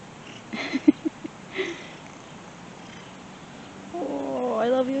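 A cat makes soft sniffs and short vocal chirps close to the microphone, then a longer rising and falling meow near the end, against quiet background hiss.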